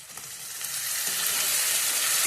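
Food lightly frying in a pan with onion browning, a steady close sizzle that swells slightly louder over its couple of seconds with no voices.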